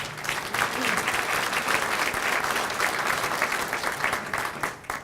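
Audience at a Chicago Park District address applauds steadily, a dense, full round of clapping that fades out near the end.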